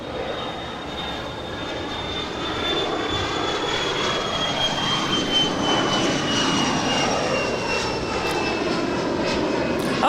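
Private jet departing LAX, a steady jet engine whine with a high tone slowly falling in pitch, building in loudness after a few seconds and holding, heard alone without talk.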